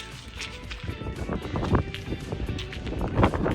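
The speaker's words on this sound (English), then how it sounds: "if you can hear, it's windy as crazy the last couple days." Strong wind gusts buffet the microphone in uneven low rumbling bursts, rising and falling over a few seconds with no talking.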